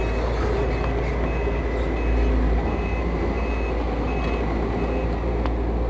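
A Case CX210B excavator engine idles smoothly with a loud, constant low rumble, and steady reversing-style beeps repeat at even intervals over it.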